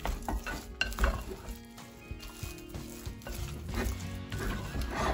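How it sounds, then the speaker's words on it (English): Cooked tapioca (kappa) being gently stirred with a mustard seed tempering in a pan, with soft scraping and stirring against a faint sizzle and occasional clinks of the utensil, close and continuous with no talking. "Now we add into our kappa. We give a mix gently."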